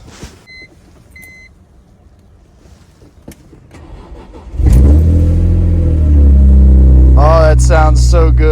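A BMW E46 M3 starts up after some quiet handling noises and brief beeps: the engine catches with a loud, deep burst and settles into a strong idle, close by and with a voice heard briefly over it.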